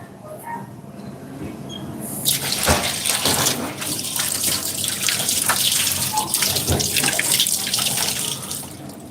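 Tap water runs into a kitchen sink while fruit is washed for zesting during work kitchen prep, a steady close splashing stream starting after a short quiet lead-in and continuing to the end.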